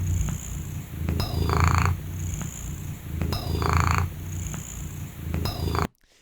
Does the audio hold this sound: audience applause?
no